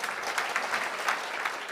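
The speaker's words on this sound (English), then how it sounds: "Give this group a big round of applause." A conference audience at Imagine 2022 gives a panel a round of applause, a steady, full wash of many hands clapping at moderate loudness, with no voices standing out.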